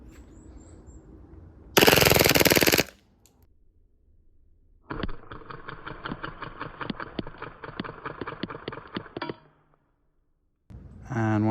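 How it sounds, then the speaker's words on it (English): A full-auto airgun rattles off BBs at a target head, heard as a steady mechanical buzz of rapid shots for several seconds, after a brief loud hiss near the start, with quiet gaps in between. "Let's try some full auto with that and then we'll move on."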